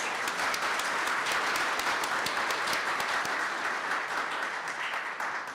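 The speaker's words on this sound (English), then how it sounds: "let's give them a round of applause, even though they are not here" A room full of people claps for engineering graduates at a university spring celebration, a sustained, even wash of applause at moderate level that tapers slightly at the end.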